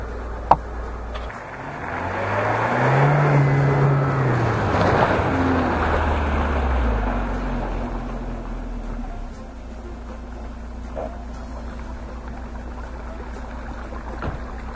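A Chevrolet Niva SUV fitted with mud-terrain tyres drives off-road through a water puddle, its engine drone rising and falling under rushing splash noise for several seconds before settling into a quieter idle-like rumble.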